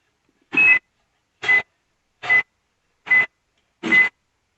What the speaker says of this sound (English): Then a timer was set for 50 seconds.